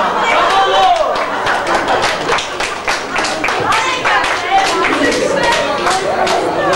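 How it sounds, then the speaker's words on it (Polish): Wedding guests clap at a Polish wedding reception, a dense burst of handclaps lasting throughout with chatter and a voice talking over it. "Dobrze brawa!"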